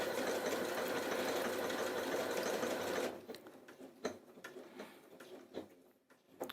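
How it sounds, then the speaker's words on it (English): A sewing machine runs steadily and loudly for about three seconds, then stops, leaving softer clicks and handling noises. "The machine's doing a lot of work and we want a really good stitch all the time"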